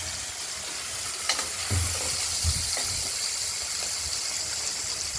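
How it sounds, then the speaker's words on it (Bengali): Scaleless tengra fish frying in hot oil, a steady bright sizzle with a few soft bumps and spatters, fairly close and without talk. "এখন এই আঁশ ছাড়া মাছ ভাজতে দিলে একটু শরীরকে বাঁচিয়ে"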